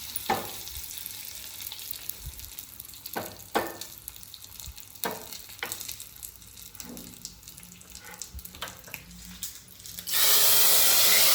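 Curry leaves frying in hot oil give a steady sizzle with scattered crackles and pops, close by, until a louder rush of sizzling or running water takes over at the very end.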